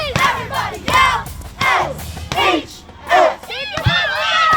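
High school students at a cheer practice yelling and cheering in loud, ragged bursts, several rising and falling group shouts separated by short gaps, close and forceful.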